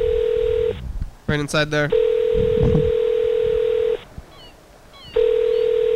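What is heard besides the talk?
telephone dialing a call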